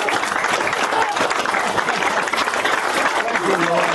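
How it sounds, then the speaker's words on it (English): Sustained applause from a ceremony audience at a Gold Star Families Monument ribbon cutting, dense clapping filling the whole moment at steady loudness, with a faint voice near the end. "Please give him a standing and round of applause, Herschel Woody Williams."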